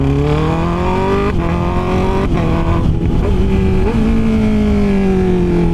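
A Honda CB650R inline-four motorcycle engine revving loud and close, its smooth whine climbing through gears with short dips at each shift.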